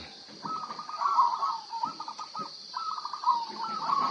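Several birds call and chirp in bursts in the morning over a steady high insect-like hum, a busy outdoor chorus at moderate distance.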